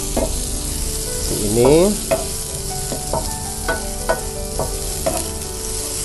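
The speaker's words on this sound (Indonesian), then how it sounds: "Kita tumis guys, ini sampai berwarna kecoklatan dan juga wangi ya guys." Ginger, galangal and turmeric sautéing in a pan for a Javanese garang asem, with a steady sizzle under repeated scraping stirs of a spatula, close and fairly loud; one brief spoken word.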